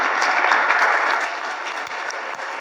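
Congregation clapping during a Spanish-language church service, a steady wash of many hands that eases slightly after the first second and continues evenly throughout.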